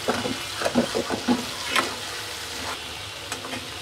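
Shredded lote (Bombay duck) fish jhuri frying gives a close, steady sizzle, broken by a quick run of spatula scrapes and clicks in the first two seconds, then quieter hissing.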